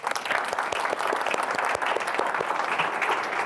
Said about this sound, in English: Let's give a round of applause for Rhoda.